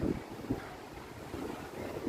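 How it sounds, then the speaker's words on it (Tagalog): Steady strong wind on a hanging bridge roars and buffets the microphone, with low gusty rumbling throughout and no voices. "Lakas ng hangin."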